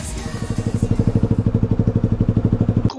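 Motorcycle passing on a road, a loud, close engine with a rapid regular throb that swells in and holds strongly before cutting off abruptly, no speech over it.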